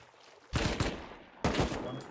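AK rifle gunfire during a raid in an online video game, two loud bursts of rapid automatic shots about a second apart, each cut off abruptly, over quiet background.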